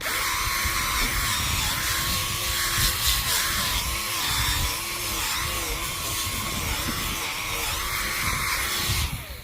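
A rotary tool spins a 5000-grit sanding pad to buff a vehicle headlight lens, giving a loud, steady, unbroken whirring grind with a rough, gritty edge that continues without a pause and with no one speaking.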